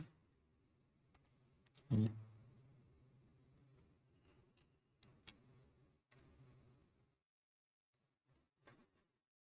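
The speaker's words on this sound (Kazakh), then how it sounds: "Мына жерде кіруді басамын." A computer mouse clicks on a login button in a very quiet room: a handful of short, sharp taps spread over several seconds, one noticeably louder than the rest, with faint rustling between them.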